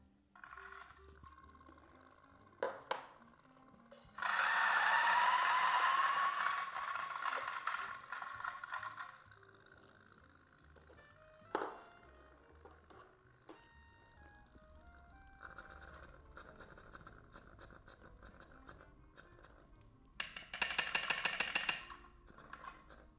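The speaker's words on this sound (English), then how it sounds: "A few beans, like not too much, 10 or so, just to clear the grinder." A coffee grinder purges about ten beans in a loud burst of grinding lasting several seconds. Scattered clicks and mechanical clatter follow, then a shorter second burst near the end.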